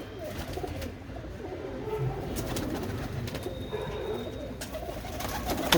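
Pigeons of a Punjabi racing loft coo steadily in a soft, continuous murmur, with scattered brief wing flutters and a faint background hum throughout.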